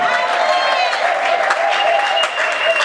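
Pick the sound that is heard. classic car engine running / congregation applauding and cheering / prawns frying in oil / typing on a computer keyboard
congregation applauding and cheering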